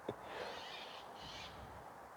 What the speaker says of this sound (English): There's most definitely an unhappy bird.